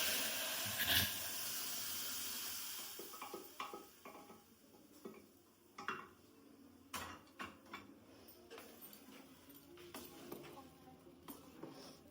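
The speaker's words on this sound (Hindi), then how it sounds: "लहसुन का अलग से तड़का देते हैं" Garlic tempering for saag hisses in a hot pan, a soft steady sizzle with scattered clinks and scrapes of a spoon against the cookware, fairly quiet and with no talking.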